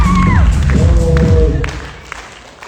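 Audience at a Zhaidarman comedy contest applauding and cheering, a loud crowd wash with whoops and clapping that fades toward the end, mixed with background voices.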